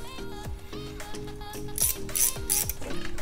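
A ratchet wrench clicks in quick repeated strokes while loosening a car valve cover, several sharp metallic ratcheting bursts close by with a few brighter clinks of metal.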